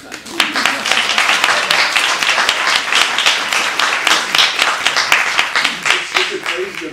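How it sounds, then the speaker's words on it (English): Audience applause for a music theatre company, a dense sustained wash of many hands clapping at steady loudness for about seven seconds, with no talking over it. "I'm going to applaud that."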